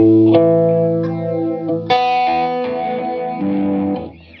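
Electric guitar chords and notes played through a Foxx phaser pedal at a deep setting, with a strong swirling, sweeping phase effect that makes the tone whoosh and shift throughout.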